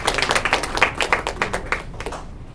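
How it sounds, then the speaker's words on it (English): An indoor audience applauds students, and the dense, fast clapping rises and falls in small waves before thinning out at the end. "Let's give them a round of applause"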